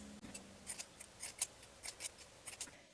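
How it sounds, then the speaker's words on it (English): Scissors snip through fabric seam allowances on a sewn shirt-jacket flap, a quick series of about a dozen short, crisp cuts in uneven rhythm, close and fairly quiet with no talk. "Trim your seam allowances."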